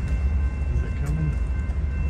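A Trinity Metro TEXRail commuter train arriving at Fort Worth Central Station gives a steady, heavy low rumble with faint tonal whine above, continuous and fairly close throughout.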